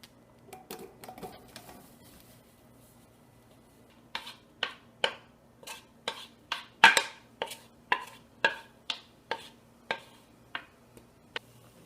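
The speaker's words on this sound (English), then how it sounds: "So we'll just give those a stir around now to get them going." Peaches being stirred in an oversized pot over medium heat for no-pectin jam: after a few soft opening knocks, a steady run of sharp, evenly spaced clacks of a spoon against the pot, close and distinct with no talking.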